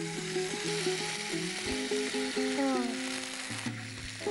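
Green chillies hit hot oil as a tempering, giving a continuous close sizzle and crackle with tonal background sounds over it.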